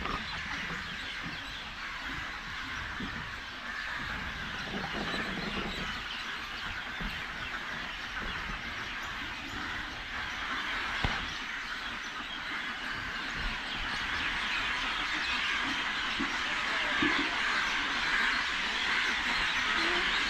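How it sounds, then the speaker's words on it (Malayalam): A large coop of about 500 ducks gives off a steady, moderately distant wash of quacking and bird chatter, continuous throughout with no clear single calls. "ഇത് നമ്മുടെ അവിടെ ഉള്ള ഒരു താറാവും കൂടാണ്"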